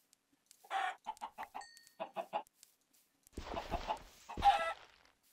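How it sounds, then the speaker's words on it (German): Chickens clucking in Minecraft, a series of short rhythmic clucks followed by a louder, rougher pair of calls, fairly close and clear against a quiet background with no talk. "Hühnchen."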